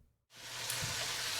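Food hits hot olive oil in a pan and a loud sizzle bursts in after a brief quiet moment, then settles into a steady, close hiss with a few small pops.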